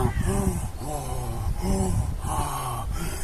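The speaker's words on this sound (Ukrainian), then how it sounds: "Потужне дихання" Powerful, heavy rhythmic breathing, several deep forceful breaths in a row with rasping, gasping inhalations and exhalations, close and loud.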